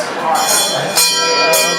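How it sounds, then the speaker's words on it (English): A bell rings at a school program's anniversary event, with sustained ringing tones under a voice talking close by. "I believe that's the bell"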